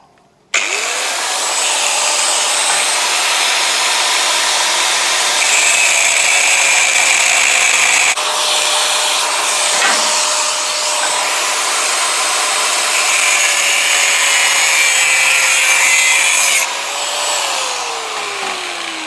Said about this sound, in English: cut through this side of the base plate right here